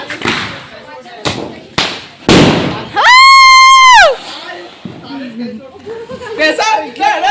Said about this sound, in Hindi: अभी मेरा भाई भी एक स्काई शॉट जला रहा है गाइस